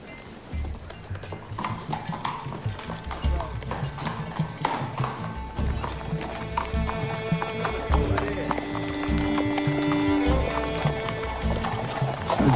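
Hooves clip-clop at a quick galloping rhythm, close by, while a horse whinnies and music plays underneath.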